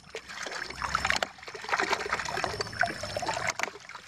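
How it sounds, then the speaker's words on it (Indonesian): Water trickles and splashes steadily from the outlet of a non-electric water pump, a continuous close, moderately loud dribbling flow with small irregular splatters. "waktu dia memompa seperti ini kan otomatis airnya naik ya guys"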